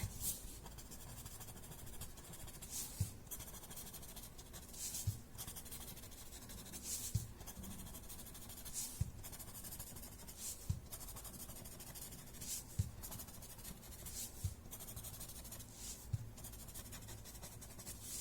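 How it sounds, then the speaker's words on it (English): Pencil shading blended on paper with a quiet, continuous rubbing texture, punctuated by regular soft taps or strokes roughly every two seconds, close up with no voices. "Blending the other side."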